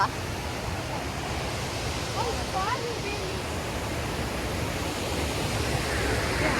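A waterfall at Madikeri roars as a steady, broad rush of falling water that fills the whole clip, with a brief faint voice partway through.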